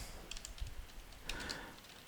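Keys tapped on a computer keyboard, faint, quick clicks in two short clusters under a low background hiss.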